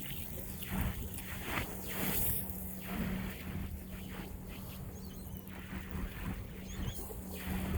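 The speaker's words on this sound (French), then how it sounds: "Alors voici un bateau." A boat moving across Lake Michigan, giving a steady broad rush of water and wind with a low engine drone underneath and no voices.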